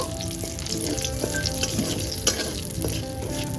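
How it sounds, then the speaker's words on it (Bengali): Tempering of dried red chilli and nigella seeds frying in hot oil in a pan, a steady close sizzle broken by occasional stirring clinks and scrapes; no talk. "সুন্দর করে ফোড়নটাকে একটু ভাজা ভাজা করে নেব।"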